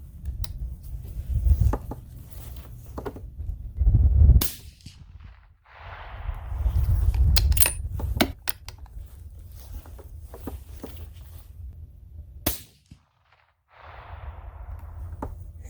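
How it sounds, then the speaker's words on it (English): A 6.8 Western rifle fired for a three-shot group: a few sharp, loud cracks spaced several seconds apart, with handling noise, rustling and quiet gaps between shots. "So I'll go ahead and shoot a 3-shot group."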